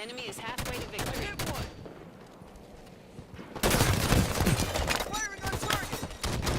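Halo 5 Warzone gunfire in a splitscreen match on March on Stormbreak, loud rapid bursts of automatic fire broken by a short lull, then an even denser volley of shots.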